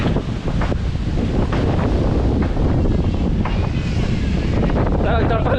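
Strong wind roars and buffets the microphone at an outdoor wooden boat (bangka) building site, a loud continuous rush with no break.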